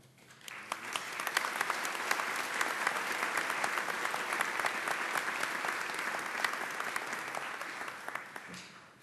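Audience applause fills a hall after a speaker praises the Illinois governor at a talk on high-speed rail; steady, dense clapping holds for about eight seconds and then fades away.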